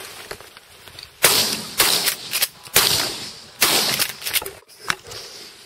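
Shotgun shots fired at Canada geese during an early-season goose hunt, several sharp loud blasts spaced unevenly over a few seconds, close by in the open.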